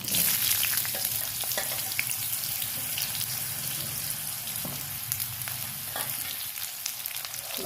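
Cut potatoes fry in hot oil with cumin seeds, a dense, steady crackling sizzle close by, with a few light utensil taps and no talk.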